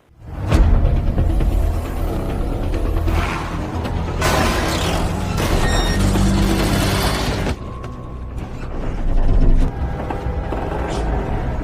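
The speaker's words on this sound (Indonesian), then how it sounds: "terjadilah sebuah ledakan yang ada bom di bawah kursinya Matt." A car bomb goes off in an action film, a sudden loud boom opening into rumbling, crashing debris and sustained noise that surges again near the end.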